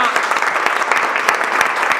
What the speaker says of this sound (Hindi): बार ताली बजाओ अपने घर वालों के लिए